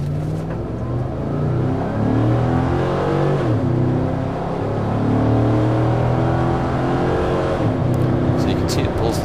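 A 2007 Cadillac Escalade ESV with a 400-horsepower engine, pulling a 6,000-pound truck, accelerates down the road, its engine note climbing steadily through rising gears as one continuous loud drone, heard from inside the vehicle.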